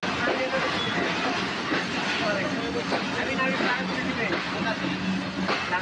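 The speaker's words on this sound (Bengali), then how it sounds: "ট্রেন ছেড়ে দিয়েছে, আমাদের এখন যাইতে হবে।" The Varendra Express pulls out of Natore station with a loud, continuous rumble and clatter of wheels and carriages close by. Voices can be heard under the noise.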